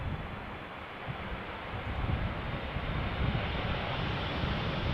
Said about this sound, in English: It's the 787-10 Dreamliner, KLM 100 year special livery.